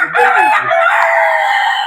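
Native country chickens on a farm in Udupi district, Karnataka, a rooster crowing loudly and close with a few clucks at the start, no talk.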